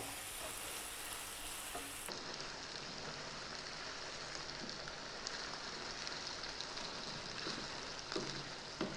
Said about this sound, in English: keep going, medium heat, another 4 minutes, stirring often